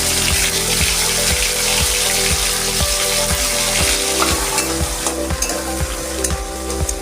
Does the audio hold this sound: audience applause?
no